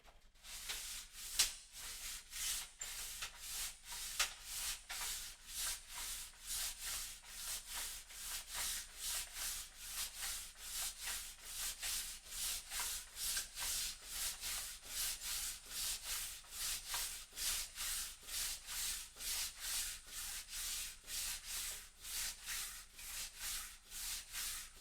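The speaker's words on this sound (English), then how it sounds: "One more pass and then we're done for the sanding for the time being." Steady back-and-forth sanding of a guitar fretboard to a radius, a close rhythmic rasp of abrasive on wood that repeats evenly about twice a second, with no voices.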